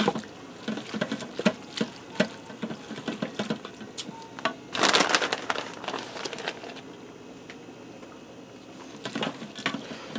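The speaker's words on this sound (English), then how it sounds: "we're going to stir it in as we add it in so we don't get one big clump of cheese" Shredded cheese stirred by spoon into pressure-cooked broccoli macaroni, giving soft, irregular sticky squelches and scraping clicks against the pot at close range, with a denser burst of wet stirring midway and no talk.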